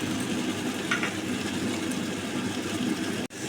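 Ginger, cumin and coriander paste frying steadily in a pan for okra masala, a dense continuous sizzle with faint stirring, ending in a brief sharp break near the close.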